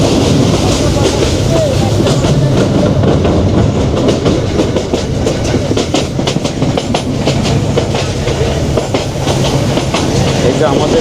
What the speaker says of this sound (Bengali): ট্রেন ভৈরব বাজার জংশন পার হয়ে দুর্দান্ত গতিতে ছুটে চলছে